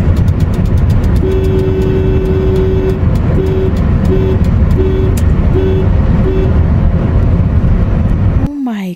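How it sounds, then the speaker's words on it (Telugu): Vehicle horns honk repeatedly on a busy highway, a steady horn tone sounding in a run of short pulses over loud road and engine rumble, close and loud. "కంటిన్యూస్గా లైక్ టోటల్ హైవే అంతా హారన్ హారన్"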